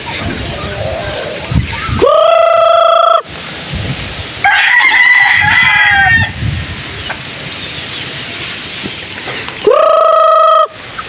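Gamecock roosters crowing loudly and close, three distinct crows spaced across the span, with softer clucks and faint background talk between them.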